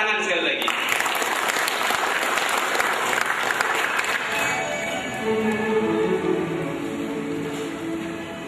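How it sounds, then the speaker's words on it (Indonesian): Crowd at a motivational Islamic lecture applauding, a dense burst of clapping that gradually thins out while a voice and other sounds emerge underneath. "Kita tepuk tangan sekali lagi."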